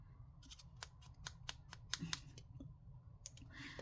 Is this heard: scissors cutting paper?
yes